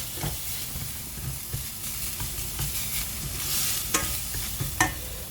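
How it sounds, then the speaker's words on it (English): Seafood sautéing in olive oil with garlic for a risotto, a steady close sizzle with repeated spoon strokes scraping the pan and a few sharper clinks. "Saute them till nice golden brown."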